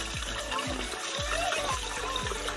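A river flows at a Philippine village river garden, a steady close wash of rushing water with soft repeated low thumps running through it.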